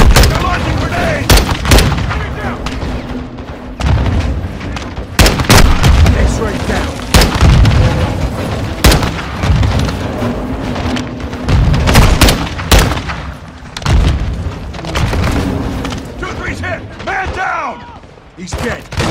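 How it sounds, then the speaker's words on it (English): Grenade explosions and rapid gunfire from a Call of Duty Modern Warfare II battle crack and boom in dense, loud bursts throughout, with shouted voices calling out over the combat. "Incoming! Take cover! They're launching grenades!"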